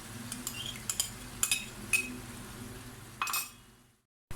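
A spoon stirs nearly boiled vegetables in a cooking pot, making scattered clinks and scrapes against the metal, fairly close and quiet, before falling silent.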